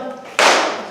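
A single sharp hand clap, loud and close, during a children's-style movement game of jumping and clapping.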